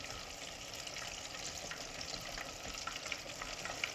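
Quiet, continuous sizzling and crackling of fish frying in hot oil, with occasional pops.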